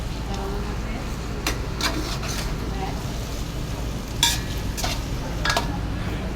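Ground meat browning in a pan, a steady background sizzle with spatula scrapes and clinks against the pan, while a person talks over it.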